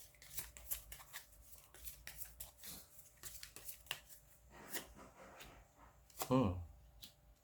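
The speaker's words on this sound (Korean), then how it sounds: "제가 추가적으로 카드를 3장만 더 뽑아보도록 할게요." Three tarot cards being drawn by hand: a run of close, crisp papery flicks, slides and taps at an irregular pace, with a brief vocal sound near the end.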